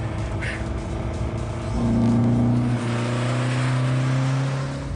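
A lowered Lada with gas shocks accelerating hard from a standstill: an engine note climbing steeply in pitch and loudness midway, then holding a strained high rev.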